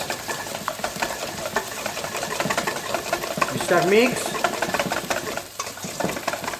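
Eggs and grated parmesan are stirred together in a bowl for a traditional carbonara sauce, giving a rapid, rhythmic scraping and clicking close by, with brief talk over it midway.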